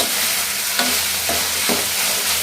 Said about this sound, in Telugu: ఈ తెల్లగడ్డలు పచ్చగా దొరుకుతున్న తెల్లగడ్డలు బాగా మళ్ళీ కలుపుతున్నాం.